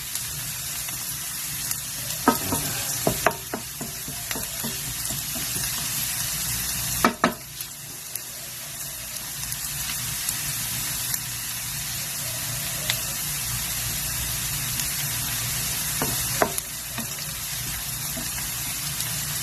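Onions sauté in a pan for monggo with alugbati, giving a steady soft sizzle with a few scattered clanks and scrapes of a utensil, close and moderate in volume.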